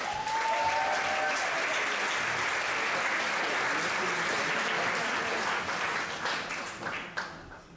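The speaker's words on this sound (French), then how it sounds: "Un tonnerre d'applaudissements pour Stéphane Belchen!" Thunderous applause from a live show audience after a performer's tricks, a dense, steady wash of many hands clapping that holds loud and then thins out near the end.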